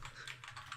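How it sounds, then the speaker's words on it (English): Fast typing on a mechanical keyboard, a quick run of crisp, clicky keystrokes in close succession over a low background hum, fairly faint and brief. "Mind my mechanical keyboard."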